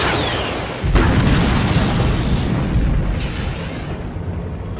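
Bombs blowing up a bridge in a film, a loud, sudden blast followed by a long, roaring, rumbling blast of debris and fire that slowly fades, with no talking.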